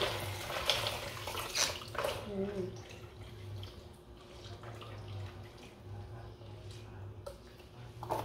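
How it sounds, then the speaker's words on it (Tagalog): Water runs from a tap as something is rinsed to wash off salt, a steady splashing stream with faint clinks and a low hum beneath, fairly quiet. "Lawan na po natin ng tubig para mawala yung alat ng asin."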